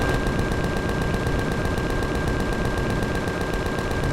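Gatling guns firing in the space game Empyrion, a continuous dense mechanical roar of rapid rounds with a steady whine on top, loud and unbroken throughout, no voices.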